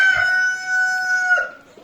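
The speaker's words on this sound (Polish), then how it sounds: "Dwa koguty brachmy i cała banda." A Brahma rooster crowing close by outdoors, one long drawn-out cock-a-doodle-doo held steady for over a second before breaking off, loud and clear with no talk over it.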